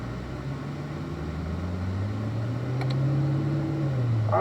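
A Corvette's engine hums and rises steadily as the car pulls up through the gears toward third, a sustained droning tone heard from inside the cabin, with no talking.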